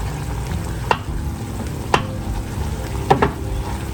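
Onions, bell peppers and jalapenos fry in a pan for a Jamaican beef patty filling, a steady close sizzle broken by a few sharp clacks of a spoon stirring, with no voices.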